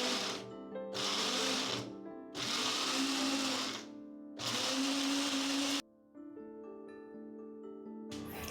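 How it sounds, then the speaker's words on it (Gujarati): A mixer grinder whirs through coriander and spice masala with a little water, running in several loud bursts separated by short pauses, then settling into a lower, steadier hum. "થોડુંક પાણી નાખી અને હવે આપણે એને ગ્રાઇન્ડ કરી લઈએ."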